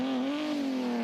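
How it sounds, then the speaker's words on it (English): A Holden XU1 with its 202 triple-carb six-cylinder pulls away at a sprint meet, a steady, loud, tonal engine drone holding a near-constant pitch close by, with no talk over it. "You can hear the Holden famous, the 202 triple carb engine of the XU1"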